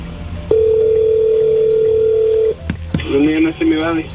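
A phone placing a call to a Mexican fast food restaurant through the Yelp app: a steady dial tone holds for about two seconds, then a short click and a ringback tone pulse follow, loud and close.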